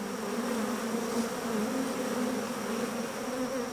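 Honey bees at an open long hive fill the air with a dense, continuous buzz, a steady close swarm hum with no talk over it.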